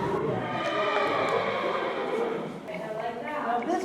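A Saddlebred horse neighs at a rescue adoption day in New York, a fairly close whinny mixed with clip-clop and a person talking over it.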